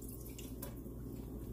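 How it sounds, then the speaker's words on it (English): Turkey drippings being poured for gravy, a steady faint liquid trickle with a brief splash partway through. "I go ahead and pour it up for the gravy."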